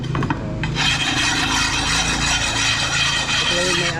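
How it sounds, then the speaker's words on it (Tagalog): A metal file rasps along a blade edge to dull its sharp sides, a steady continuous grinding scrape that fills the clip up close and loud without pause. "Inahasa po mga idol para hindi matalas yung mga gilid-gilid."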